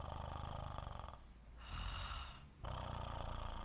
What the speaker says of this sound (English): Oh my gosh, she's snoring.